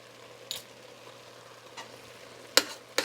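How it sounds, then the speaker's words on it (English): Noodles and chicken are stirred in a pan, a few short, quiet scraping strokes separated by pauses over a faint background hum, the last two strokes a little sharper. "I'm going to stir that around"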